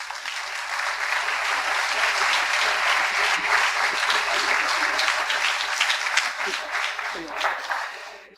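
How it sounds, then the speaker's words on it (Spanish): Steady applause from a large audience at a talk event fills the room, swelling and holding for several seconds before tapering off at the end. "Un aplauso."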